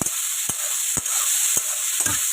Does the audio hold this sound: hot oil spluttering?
yes